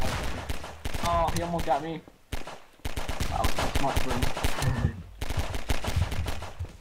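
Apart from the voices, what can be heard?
gunfire in Garry's Mod video game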